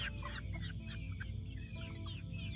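Chickens cluck and chatter close by at a poultry netting enclosure, a busy overlapping flock with several birds calling at once over a steady low background hum.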